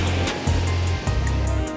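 Sea waves wash onto the shore at Somnath beach on the Gujarat coast near the temple, a steady broadband roar with surges of surf breaking, loud and close throughout.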